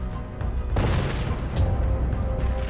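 A Crysis 2 explosion goes off as a heavy boom with a broad rumbling blast that stays loud and sustained with debris noise, following quieter game ambience.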